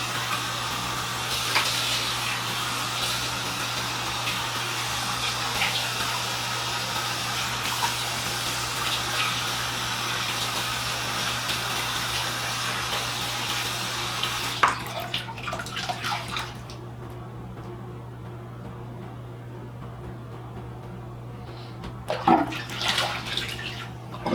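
Steady running water from a bathroom sink tap while someone splashes water onto their face during a nighttime skincare routine. Close and continuous, with brief splashy bursts near the end and no talking.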